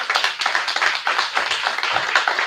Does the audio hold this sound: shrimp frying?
no